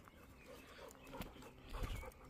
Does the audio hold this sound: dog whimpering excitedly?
yes